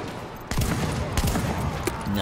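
Shotgun blasts in the video game Mirror's Edge Catalyst: several loud, booming shots fired in quick succession over busy game sound, starting sharply after a brief quieter lead-in.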